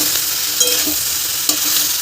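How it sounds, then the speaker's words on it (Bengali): Potatoes and jackfruit fry in a pan and are stirred, giving a close, continuous sizzle with a couple of sharp scraping strokes of the stirring spoon and no talking. "এটা একটু ভালো করে নাড়ন চারণ করে নেবো যাতে একটুখানি টেস্টফুলি হয়ে যায়"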